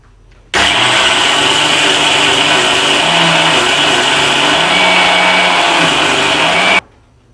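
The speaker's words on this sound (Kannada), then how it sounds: "ಈಗ ಮಿಕ್ಸರ್ ಮಾಡ್ಕೊಂಡೇವ್ರಿ." A kitchen mixer grinder blending coconut into fine neer dosa batter switches on and runs as a loud, steady motor whine with a churning rasp for about six seconds, then cuts off abruptly. No voices are heard.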